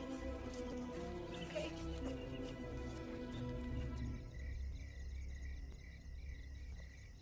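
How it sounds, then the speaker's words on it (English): Crickets chirp at night in a quiet outdoor setting, a steady layered trilling that continues throughout, with a soft patter underneath and no talking. "And those crickets singing"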